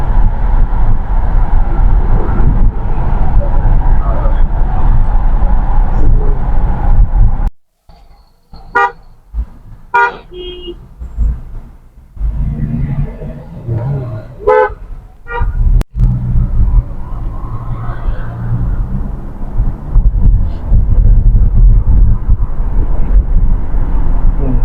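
A taxi driving along a near-empty road in Saudi Arabia, with steady engine and road rumble plus wind buffeting, a short quieter stretch broken by a few car horn toots, then the continuous drive noise returns.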